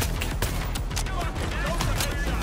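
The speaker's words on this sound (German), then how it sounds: "Oh, das ist ein Sniper." Gunfire in the heist game Payday 3, a dense run of rapid sharp shots and cracks layered over a low rumble, steady and close, with a voice talking over part of it.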